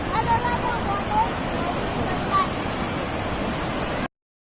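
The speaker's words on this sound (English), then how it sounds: "कितना बड़ा waterfall. अलग-अलग waterfall." Amboli Ghat waterfall pours with a constant broadband roar, loud and near, for about four seconds before cutting abruptly to silence.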